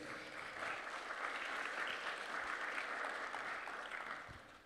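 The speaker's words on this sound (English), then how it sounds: "it deserves another big round of applause" A hall full of attendees at a church youth career fair applauds in a broad, even wash of clapping that swells, holds for several seconds and then tapers slightly, sounding somewhat distant and soft.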